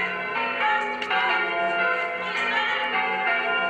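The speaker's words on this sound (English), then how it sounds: "What be them bells ringing for?" Church bells ring continuously in a dense, overlapping peal, bright and resonant, filling the whole stretch without any voices.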